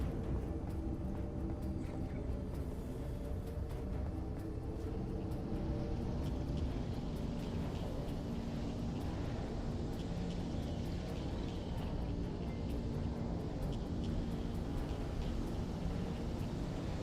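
Halo 3 Lich vehicle engine, using slightly pitch-modified Halo 4 engine sounds, gives a steady, dense low drone that holds at constant loudness throughout with no voices.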